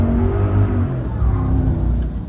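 A 700hp drift truck spinning its wheels in fourth gear on a European mountain road, a loud continuous engine roar with rising and falling revs.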